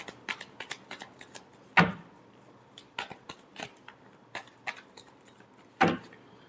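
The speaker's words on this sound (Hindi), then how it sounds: "Last shuffle." Tarot cards being shuffled by hand in a quiet room, giving soft papery riffles and taps, with two louder snaps of the deck, close and alone.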